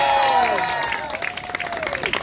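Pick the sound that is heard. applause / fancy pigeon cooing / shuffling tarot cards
applause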